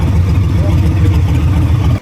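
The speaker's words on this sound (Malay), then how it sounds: "Dengar ni motor baru saya?" A new Harley-Davidson motorcycle engine runs loud and close in Hat Yai, Thailand, a heavy rumbling idle-to-rev throb filling the brief moment.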